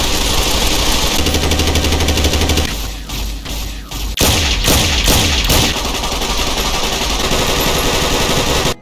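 Modded weapons fire in Fallout New Vegas with loud, rapid automatic gunfire that runs in sustained bursts. Brief gaps separate heavy, punchy shots midway through.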